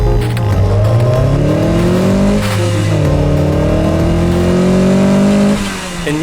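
A car repaired after being totaled revs hard and accelerates, its engine note climbing through several gear-like sweeps, loud and close throughout with no talking.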